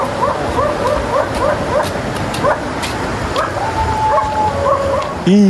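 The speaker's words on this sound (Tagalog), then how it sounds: "Hindi po kami makadaan, daming aso." Several dogs bark and yip repeatedly at a distance over steady outdoor noise, with a whine near the end and a loud close sound at the finish.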